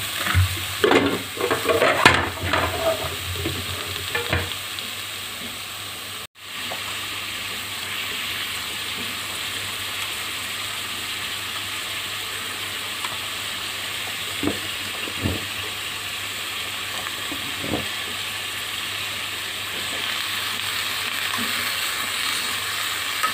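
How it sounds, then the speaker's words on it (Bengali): Vegetables fry in oil with panch phoron, onion and chilli: a few clattering stirs open the sound, then a steady, moderate sizzle runs on with occasional faint knocks. "কিছু পাঁচফোড়ন আর পেঁয়াজ মরিচ তেলে ভেজে সবজি বসাই দিচ্ছি"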